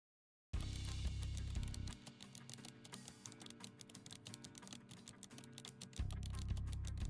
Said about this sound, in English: The sound of fingers tapping on a keyboard and a pen tip scratching against the paper among them